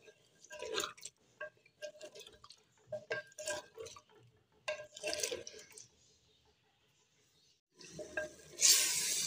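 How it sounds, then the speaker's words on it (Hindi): Chicken stirred through garlic-ginger paste in a pot for a boneless achari handi, giving intermittent scraping and stirring bursts with soft sizzling, a quiet pause, then a louder hissing sizzle near the end. "अच्छी तरह इसकी बुनाई करेंगे ताकि इसका लहसुन अदरक का कच्चापन है वो ख़त्म हो जाए"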